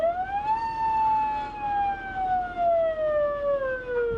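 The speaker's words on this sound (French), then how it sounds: "La sirène américaine aussi a été testée." An American-style wailing siren sounds from a yellow fire rescue vehicle of a Normandy fire brigade, one long tone sweeping up then slowly gliding down, loud and clear with no talk.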